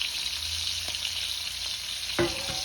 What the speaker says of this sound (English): You hear my onions over there cooking.